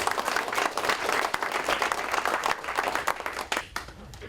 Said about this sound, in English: please give a huge round of applause to Peter Green.